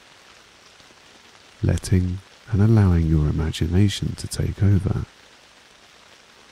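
Soft, steady raindrops patter faintly in the background while a calm voice speaks over them for most of the stretch.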